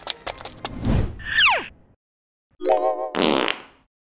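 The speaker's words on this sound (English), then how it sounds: "I just come here to fart." Cartoon fart sounds, a few loud, close, comic blasts with squeaky whistling tones, separated by a short silence.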